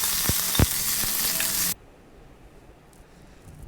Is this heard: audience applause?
no